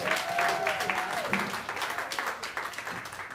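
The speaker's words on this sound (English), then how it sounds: "So give Marvin a round of applause" A concert audience at a klezmer jam gives a round of applause, dense clapping that is strong at first and gradually thins and fades over a few seconds, with a faint voice briefly underneath.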